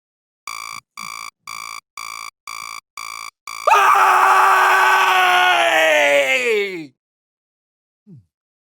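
A person lets out one long, loud, harsh scream that holds for about three seconds and then cuts off, after a run of regular electronic beeps.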